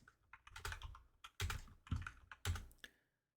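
Typing on a computer keyboard in quick bursts of clattering keystrokes, close and fairly loud, with short pauses between runs and silence at the end.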